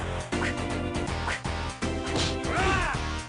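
Heavy smashing hits from an enemy striking the player in the 1994 Rare arcade brawler Battletoads, crunchy thwacks landing one after another over busy electronic game music.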